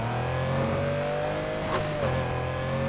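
A tuned car with retro stance styling in NFS Heat revs its engine under load, the steady drone rising and easing off before crackling exhaust pops break through near the end, close and loud with no talking.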